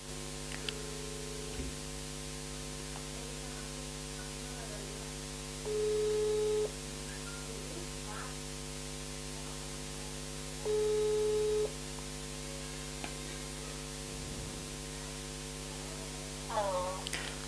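A phone call plays over a loudspeaker with a steady hum. Two long tones, about a second each, sound several seconds apart, like a ringback tone, over faint static in a quiet room.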